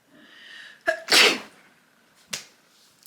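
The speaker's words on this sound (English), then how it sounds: "a burp and a sneeze." A single sharp sneeze bursts out close up after a quick intake of breath, followed by a smaller exhale in an otherwise quiet room.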